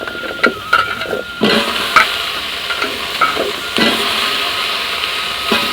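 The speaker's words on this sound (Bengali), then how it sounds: "আমি ঝোলে তো আদা আর পেঁয়াজ দিয়ে দিয়েছি এখন আমি আলু উঠিয়ে দিচ্ছি" Potatoes go into a curry broth with ginger and onion, bringing loud spoon scrapes and clatters against the pot over a running sizzle, close and irregular, with no talking.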